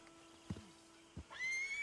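A horse in the Red Dead Redemption 2 video game gives two short whinnies and snorts close by, followed by a rising, brighter neigh near the end, with no speech.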